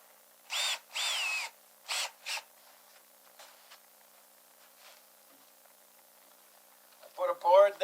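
Power drill with carbide-tipped bits boring in short bursts, several separate loud whirs in the first half, then a louder grinding run near the end.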